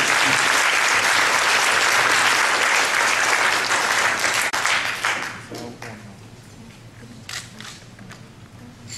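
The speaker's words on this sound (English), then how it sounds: "please join me with a big applause to welcome Ambassador A.Bader" An audience at a policy forum in Taipei gives loud, dense applause to welcome an ambassador as speaker. It is sustained for about five seconds, then fades into scattered claps and room noise.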